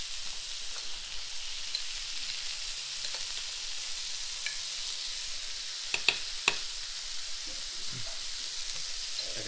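Butter sizzling with beef burger patties in a hot pan, a steady soft frying hiss running throughout with a few brief clinks of a utensil midway; no voices.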